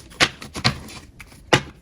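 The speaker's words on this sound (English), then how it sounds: "I love the way these shuffle" A thin, flimsy, bendy cheap knockoff card deck being shuffled up close, giving three short crisp riffling bursts with brief gaps between them.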